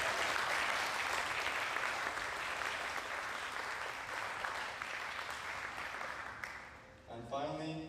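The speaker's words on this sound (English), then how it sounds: "can we have one final round of applause for our amazing speakers" A TEDx youth audience at UWC Thailand gives a final round of applause for the speakers, dense, steady clapping that fills the room before stopping, with a voice starting to talk at the end.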